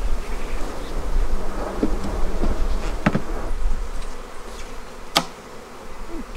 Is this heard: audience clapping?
no